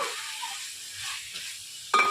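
Steady sizzling of spices frying in hot oil for ridge gourd chutney, with a brief stirring scrape and a sharp clink near the end.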